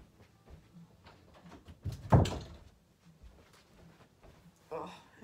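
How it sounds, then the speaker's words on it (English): A door is pushed shut with a single muffled thunk partway through, while people talk quietly around it. "Oh, I had to shut the door."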